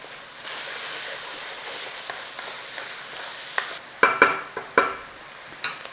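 Garlic hits a hot pan beside browning beef mince for classic British mince and mash, a steady close sizzle with a few sharp clicks and spatula scrapes near the end.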